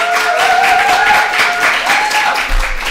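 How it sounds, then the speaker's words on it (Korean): Audience applause welcoming a lecturer at a parenting sex-education talk, a steady wash of clapping that holds evenly throughout at moderate volume. "우리 김현숙 선생님 박수로 맞아주세요."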